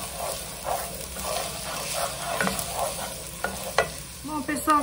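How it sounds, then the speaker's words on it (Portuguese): Onion sizzles in a pan as the base for Moroccan lentil soup, a soft continuous frying hiss broken by stirring scrapes and clicks, close and fairly quiet. "vamos jogar a cebola, fritar por alguns minutos antes de colocar o alho e as especiarias, o cominho e a canela."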